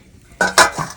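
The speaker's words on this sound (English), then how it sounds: "Gonna cover the lid again." A cooking pot lid is set back on a boiling pot, giving two close, bright metallic clanks followed by a softer settling knock, heard alone.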